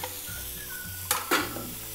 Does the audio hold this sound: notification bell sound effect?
no